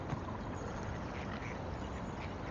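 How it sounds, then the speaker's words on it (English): Swans call with honking, quacking sounds amid steady broadband outdoor noise, faint and somewhat distant, without any talking. "Swans are a beautiful creature. A beautiful bird."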